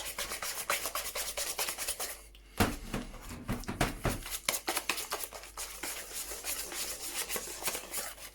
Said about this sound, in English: With my whisk, I loosen it up.